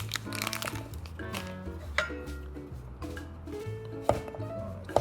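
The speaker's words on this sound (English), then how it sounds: "Chop it up rough." A knife chops pineapple cake into rough cubes on a board, giving a run of dull, close knocks and soft crumbly cuts at an uneven rhythm with no talking.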